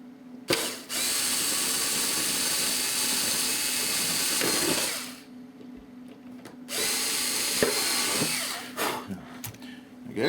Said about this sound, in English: So let's very carefully see if we can drill them straight through here.